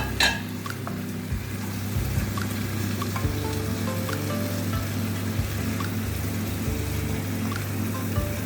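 Rohu fish pieces frying in spiced oil over medium heat, with a steady close sizzle, a few light clinks and taps of utensils early on, and a low continuous hum underneath, with no voices.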